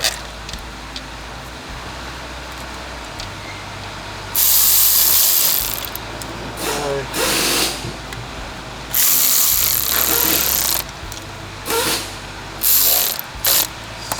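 A ratchet snugs up the bolts on a 2018 Jetta water pump, with rapid pawl clicking in several bursts of a second or two each, close and loud, separated by quieter pauses.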